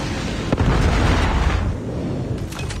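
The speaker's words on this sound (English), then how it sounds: "Predator missile inbound." A Predator missile strike exploding in Call of Duty, a loud, continuous rumbling blast with a sharp burst near the start and debris crackle fading toward the end.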